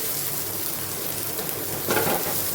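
Crushed ginger garlic paste sizzles steadily in hot oil in a pan while palak paneer is being cooked, a close, even hiss with a brief louder crackle near the end.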